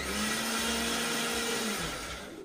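An electric mixer grinder blends a chutney of green chilli, garlic, peanuts, salt and lemon, giving a loud steady whirring motor drone with a constant hum that runs throughout and then cuts off abruptly at the end.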